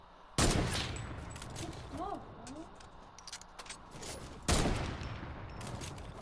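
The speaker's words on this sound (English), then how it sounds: "It's a gun." Two sharp, loud gunshot bursts ring out in a Fortnite match, one early and one later, with faint game sounds and brief talk in between.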